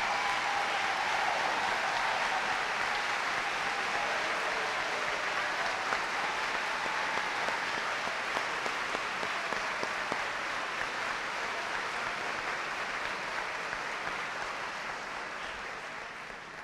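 School staff at a district convocation applaud and cheer to welcome new colleagues, a dense, sustained wall of clapping from a large hall crowd that holds steady and slowly tapers toward the end.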